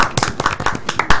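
Scattered clapping from a handful of people in a Turkish television studio, quick irregular sharp claps, close and loud, brief.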